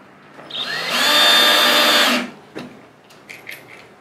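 A power drill drives a small 3/4 inch screw into a 72-inch piano hinge joining two bookcases. The motor whirs loudly for about a second and a half and then stops, followed by a few faint clicks.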